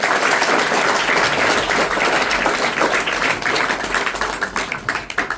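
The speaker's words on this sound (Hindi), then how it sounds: "ताली बजाकर।" Schoolchildren and staff in a school hall in Jodhpur clap together in a sustained, dense burst of applause that stays loud throughout, breaking into a few separate claps as it fades at the end.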